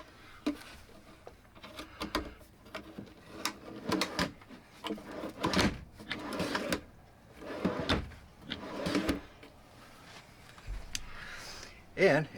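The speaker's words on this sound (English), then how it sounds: "drawer opens and closes" An RV dresser drawer on full-pull slides, in a Heartland fifth-wheel trailer, is opened and closed again and again with sliding rumbles and sharp clunks, while a person talks throughout.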